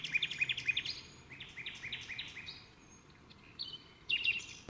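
Small birds chirp and tweet in quick bright bursts around a garden birdhouse, fairly close and moderately loud, with pauses between calls and no talk.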